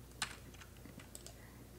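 Computer keyboard keys pressed as shortcuts while working in the Reason music software, a few sharp isolated clicks with one louder tap, quiet and close, no speech.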